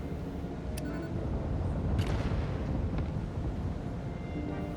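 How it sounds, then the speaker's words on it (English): Distant explosions rumble in the video game Satisfactory, a steady low roar broken by a few faint bursts around the second and third seconds, with no talk. "Sound of distant explosions"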